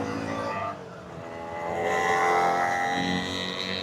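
A small two-stroke motorcycle engine buzzes close by, its whiny pitch dipping and then revving higher before settling.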